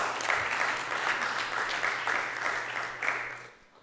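Brief applause from the audience at a college board of trustees meeting, a moderate, even patter of many hands that tapers off near the end.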